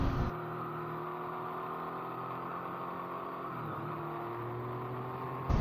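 A Triumph Tiger 800 XCX motorcycle's three-cylinder engine pulls hard on open throttle, a loud, steady droning whir heard from the rider's position, its pitch climbing gradually with a brief dip partway through as it keeps accelerating.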